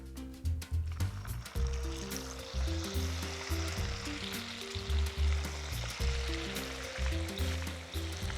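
Noodles hit a hot pan oiled with sesame oil and sizzle and crackle steadily, with the hiss rising and falling as they are tossed and moved about, close up and with no talking.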